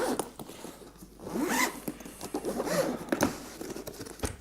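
The zipper on the carrying case of a SUAOKI U18 Plus jump starter is pulled open in several quick, raspy zipping strokes at close range, with short pauses between pulls.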